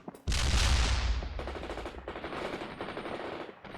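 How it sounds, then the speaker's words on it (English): Machine gun fire in the war strategy game World in Conflict: a loud, rapid burst of automatic shots opens, then a sustained rattling fusillade continues close by. "Set up that machine gun!"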